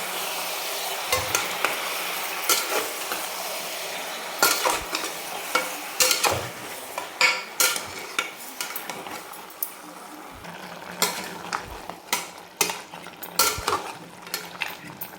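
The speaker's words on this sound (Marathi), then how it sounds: "हे टाकून आपण आता फुल गॅसवर आपण परतून घेणार आहे" Two small country tomatoes sauté over full flame for tawa mutton, with continuous sizzling broken by repeated scraping and clinking of a metal spoon against the pan.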